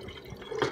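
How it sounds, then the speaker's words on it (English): Water being poured into a drinking container in the morning, a short faint splash and trickle with a brighter burst near the end. "I just get my water. Just pour it in here."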